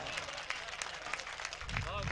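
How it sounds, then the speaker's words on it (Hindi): Applause ripples through the audience at an All India Mushaira poetry gathering, a fairly faint, dense patter of clapping with sporadic louder claps, while voices speak over it toward the end. "जोरदार तालियां बजाकर इस शेर की पिजराई करिए"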